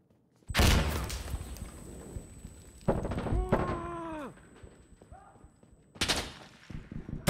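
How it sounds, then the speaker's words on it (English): Heavy blasts and gunfire in an Insurgency: Sandstorm firefight on the Ministry map, with a loud burst near the start, another in the middle and one more near the end, and a shouted voice between them. "Throwing grenade!"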